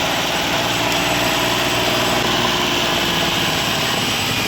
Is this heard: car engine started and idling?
yes